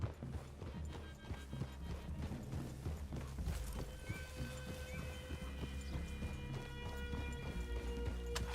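Horses clip-clopping at a walk in Red Dead Redemption 2, with steady hoof steps, an occasional whinny and snort, and an ambient game score running continuously underneath.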